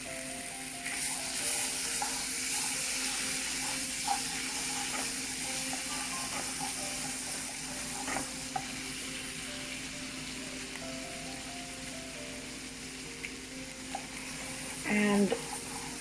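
Tomato paste sizzles softly in melted butter in a pan while being stirred, a quiet continuous frying hiss with occasional scraping of the spoon and a few faint clinks near the end.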